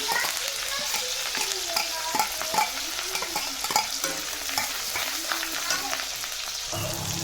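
Chopped green chili and curry leaves sizzle and crackle in hot oil in a pan for a Maharashtra-style cauliflower dish, a steady close frying hiss with scraping stir strokes throughout.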